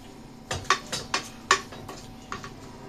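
Cooked masoor lentils are mashed against the edge of a pot with a utensil, giving a series of sharp metallic taps and scrapes, about eight distinct knocks spaced irregularly over a quiet background.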